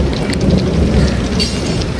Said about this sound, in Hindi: खतरनाक किस्म के बादल गरज रहे हैं